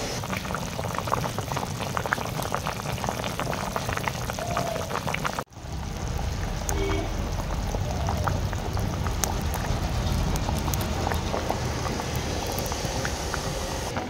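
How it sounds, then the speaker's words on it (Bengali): A pot of water boils vigorously with fish and potatoes inside, giving a dense, steady bubbling roar throughout, briefly interrupted by a short dip before resuming at the same level. "জল একটুক্ষণ আগে ফুটতে শুরু করেছে, আমরা দিয়ে দিয়েছি মাছ।"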